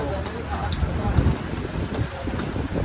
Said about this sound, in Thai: โอ้ลมแรงมากเลย